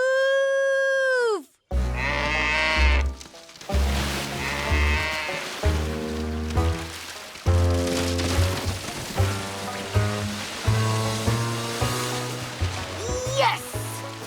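A cartoon cow lets out a low bellowing moo amid bright orchestral music, with a voice speaking over the scene and a rising whistle-like note near the end.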